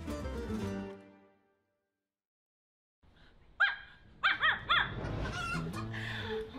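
A person imitates a dog barking, giving a run of short, yappy barks after a stretch of silence, preceded by fading music or voices, close and fairly clear.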